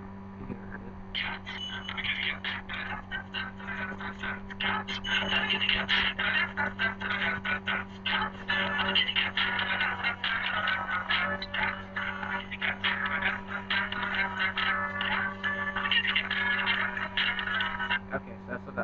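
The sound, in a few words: kitty cat song played as candidate ringtone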